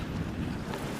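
Strong wind roars and buffets the microphone in a continuous, heavy rush with no voices.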